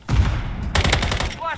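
Bursts of rapid automatic gunfire in Call of Duty Modern Warfare III on the Rust map, loud sharp shots in quick succession followed by a brief ringing whine.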